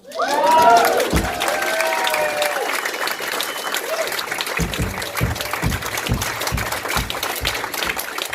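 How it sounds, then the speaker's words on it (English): Audience applause and cheering fill the room after a live spoken-word performance at a radio station studio, loud at first then steady, with scattered sharper claps standing out near the end. "Y'all can clap now."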